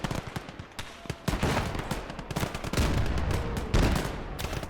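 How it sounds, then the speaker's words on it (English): Artillery shells hit in Gates of Hell: Ostfront as a steady run of sharp, overlapping blasts. Impacts crack and rumble at a moderate distance, building in loudness toward the end with no voices. "there's my artillery hitting"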